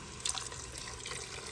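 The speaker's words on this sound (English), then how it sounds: "I'm going to go ahead and add my 4 cups of beef broth" Four cups of reduced-sodium beef broth pour from a carton into a soup pot for cabbage roll soup, a brief close splashing gurgle with no one talking.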